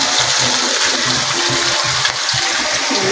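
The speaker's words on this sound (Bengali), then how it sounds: "এই তো এখানে মাছ ভাজা হচ্ছে।" Fish sizzling as it fries in hot oil for a crispy finish in a home kitchen, a steady dense hiss with faint bubbling crackle running throughout, close and fairly loud with no talk.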